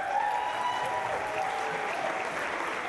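Comedy club audience at a stand-up show giving a short burst of applause, steady clapping from a moderate distance for a few seconds.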